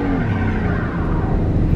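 A beat-up Pontiac minivan's engine roars loud and close in a sustained rev during a burnout on low-traction pavement.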